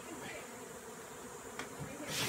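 Honey bees buzz inside a shed, a quiet, steady, low hum throughout with a brief rustle near the end.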